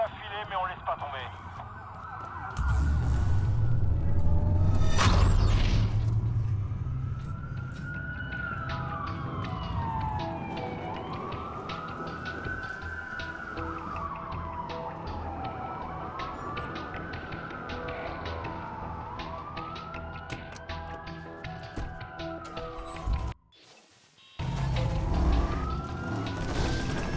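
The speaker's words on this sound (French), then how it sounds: "Ça fait beaucoup de sirènes pour une coupure." Police car sirens wail in the video game Watch Dogs, several rising and falling sweeps repeating steadily over a busy background, briefly cutting out near the end before resuming.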